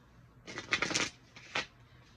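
Astrology cards being shuffled in a few quick riffled bursts, close and fairly loud, with a short pause before a final brief flurry.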